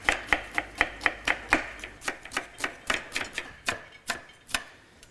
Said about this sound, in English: And we'll chop up our onion.